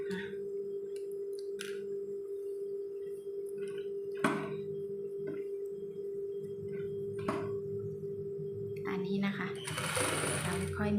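A sewing machine runs steadily, stitching a rolled curved hem along the edge of a Thai tube skirt, its hum continuous throughout with small clicks and a louder burst of mechanical noise near the end.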